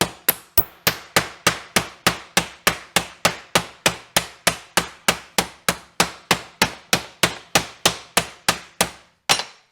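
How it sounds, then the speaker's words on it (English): A hammer strikes sheet metal to form a curve while it is being fitted to a rat rod chassis. Roughly thirty sharp, evenly spaced metallic blows ring out in a steady rhythm, close and loud, with no talk. "So I break out the hammers"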